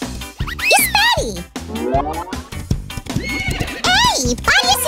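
A cartoon seahorse whinnies like a horse in several rising and falling high-pitched neighs, loud and close, interleaved with animated speech.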